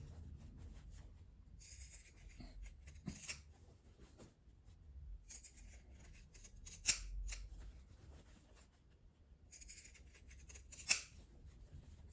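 Pinking shears snipping fabric for a handmade flower-shaped gift bag, quiet crisp cuts arriving in short bursts with rustling and two sharp clacks between them.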